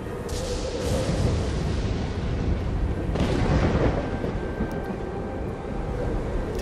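Thunder and a lightning strike in the video game Journey roll as a dense, continuous low rumble that swells into a heavier surge partway through, with no talking over it.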